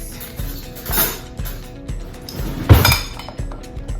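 Carrots and rosemary are stirred in a pan with a utensil, giving a steady series of metallic scrapes and clinks roughly every half second, close and fairly loud, with one sharper clank partway through and no talking.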